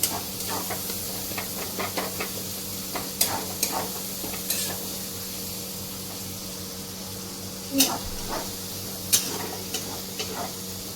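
A melted ingredient for potato chop filling being mashed, heard as soft, scattered pressing taps and clicks over a steady background hiss.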